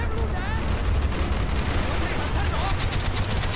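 Rapid, loud bursts of automatic gunfire in Call of Duty Black Ops rattle continuously during a Vietnam campaign firefight, dense and close.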